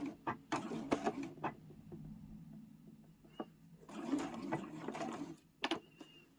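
A sewing machine stitches a mini boxed pouch in short stop-start bursts, with quick back-and-forth runs for back stitching separated by brief pauses and soft handling noises, close and moderately loud.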